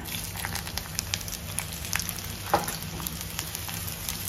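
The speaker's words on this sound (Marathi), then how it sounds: "आता आपण पहिल्यांदा उभा कापलेला कांदा टाकायचा" Steady crackling sizzle of onions frying in hot oil, continuous and close, with a few sharper pops and a brief louder spatter midway.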